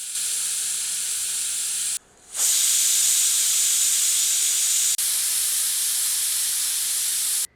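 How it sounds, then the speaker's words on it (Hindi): Steam hisses loudly and steadily from a pressure cooker of mutton curry, with a brief gap before a stronger, harsher release that continues until a cutoff. "प्रेशर कुकर की भाप स्वतः मुक्त होने के उपरांत ढक्कन हटाते हैं।"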